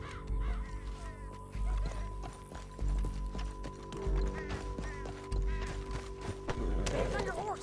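Horses gallop in Red Dead Redemption, a steady run of clip-clop hoofbeats under game music with occasional voices and a caw, close and fairly loud throughout.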